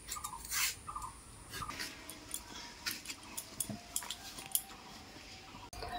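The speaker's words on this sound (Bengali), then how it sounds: "এইভাবে আমি কলাগুলো সব কেটে নেব।" A knife slices raw green bananas on a board, giving a run of small, sharp clicks and taps at close range with no talking.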